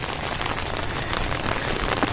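Rain comes down during the rainy season, a close, steady patter and hiss of drops striking surfaces, dense and continuous without speech.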